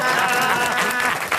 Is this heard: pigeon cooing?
no